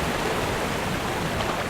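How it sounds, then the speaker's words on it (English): Video game waterfall, a steady broadband rush of falling water, even and continuous at moderate level with no voices. "There is a waterfall."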